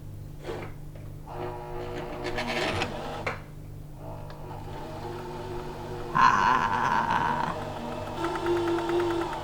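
A sewing machine stitching upcycled jeans runs in several short bursts of rapid mechanical whirring, separated by brief pauses, with a steady low hum beneath and some clatter of fabric handling.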